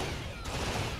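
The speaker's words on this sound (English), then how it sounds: "This gun is far too accurate for what it is." A rapid burst of automatic gunfire from a gun in the video game Killzone, dense continuous shots over a short second, moderately loud with no talk.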